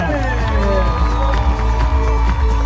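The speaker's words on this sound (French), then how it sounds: "je voudrais un tonnerre d'applaudissements pour le président du FILEM, Christophe Jacob" Festival crowd in Issoire cheers and applauds loudly for the FILEM president, a dense sustained roar of clapping and shouting with a steady low rumble beneath.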